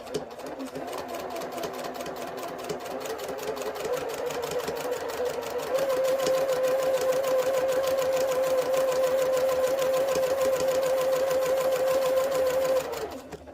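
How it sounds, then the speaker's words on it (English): A sewing machine stitches fabric along a marked line for a hexagon box pillow at a shortened stitch length, running at a steady close hum that grows a little louder partway through before stopping. "I'm going to just try to sew directly on this line"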